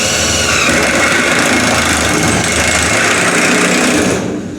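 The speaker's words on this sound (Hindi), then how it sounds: "अब जी स्क्रू टाइट किए जा रहे हैं।" Power tool tightening screws into a shipping container floor board in a container workshop, heard as one loud, steady mechanical whir that runs unbroken for about four seconds and then drops away at the end.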